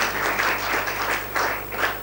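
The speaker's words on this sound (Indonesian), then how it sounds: "Tepuk tangannya belum yakin, saudara." Congregation applause during a Sunday morning Indonesian church service, a crowd of hands clapping in uneven waves over a low steady hum, moderately loud and continuous with periodic swells.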